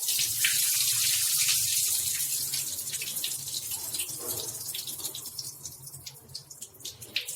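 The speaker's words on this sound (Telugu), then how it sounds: "దీన్ని ఇలా వెంటనే నీళ్లు పొయ్యిగానే వెంటనే ఒకసారి కడిగి పారబోసి వెంటనే తీసేసుకోవాలన్నమాట" Water poured over millets in a vessel to wash off dust and soil, a splashing gush at first that thins into trickling and drips, close by with no talk.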